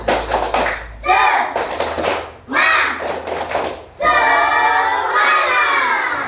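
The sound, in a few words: class doing the 'tepuk semangat' rhythmic clapping cheer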